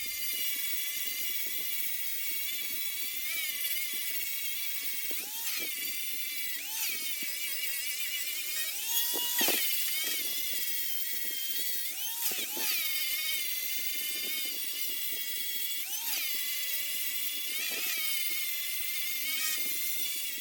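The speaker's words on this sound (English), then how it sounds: "if you decide to use the grinder for the old cowhide" A grinder thinning a cowhide during tanning, a continuous high-pitched whine that dips and rises in pitch as the tool bears on the hide, steady and close throughout.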